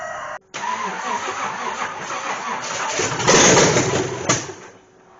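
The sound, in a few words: car engine starting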